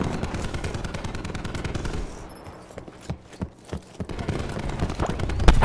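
Rapid bursts of machine-gun fire crackle through a video game battle, loud and close at first, thinning to scattered sharp shots in the middle, then returning as dense fire, with no talk over it.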